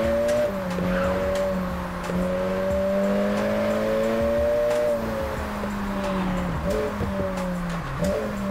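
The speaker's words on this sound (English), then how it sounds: "I don't ever rev match into first, but I just like doing it in the game just to get my maximum amount of downshifts" A racing video game car engine drones at a steady pitch, rising and falling gently with brief dips as it downshifts and rev-matches, loud and continuous with no voices.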